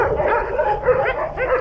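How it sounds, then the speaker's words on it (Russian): Hungry dogs barking and yelping in repeated overlapping bursts, loud and close, some barks rising into whimpering yips, with no talk over them. "Собаки голодные, они рвутся."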